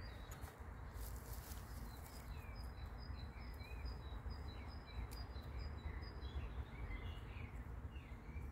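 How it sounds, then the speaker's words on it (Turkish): Small birds chirp and twitter faintly in a vegetable garden in Germany, scattered high calls over a steady outdoor hiss of wind and background noise, with no talking. "Kuşların seslerini duyar mısınız?"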